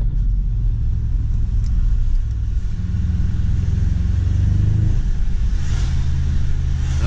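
An Audi RS6 on its stock exhaust drives along with a steady, loud, low engine rumble and road drone throughout, with no talk over it.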